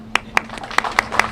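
A few hands clap at a construction kickoff event: six sharp, evenly spaced claps over a steady low hum, sparse rather than a full ovation.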